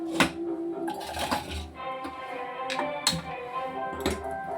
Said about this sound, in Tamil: இப்போ நம்ம குக்கரை மூடி